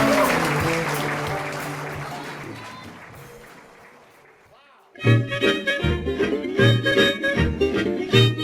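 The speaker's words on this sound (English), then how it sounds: "Give him a big round of applause" Applause from a variety-show audience for a comedy act, starting full and steadily thinning away over several seconds beneath music before a lively band number bursts in loudly.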